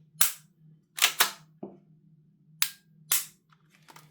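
Action Army AAP-01 airsoft pistol fitted with a Nexxspeed trigger, dry-firing in a test: six sharp, close cracking shots spaced irregularly over a few seconds, with a steady low hum underneath.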